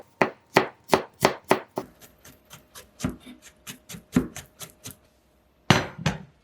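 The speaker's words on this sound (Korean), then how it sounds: "마늘은 대강 다져 주시고요" A knife chops garlic rapidly on a cutting board, a quick series of sharp taps that slows to lighter, irregular strikes, with a final cluster of chops after a short pause.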